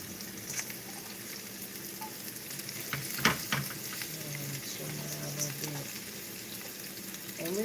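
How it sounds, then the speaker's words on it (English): Fresh green beans and garlic sizzle and get stirred in a hot pan, a steady frying hiss with scraping utensil clicks and a sharp clatter midway, while people talk faintly over it. "Hear that sizzle?"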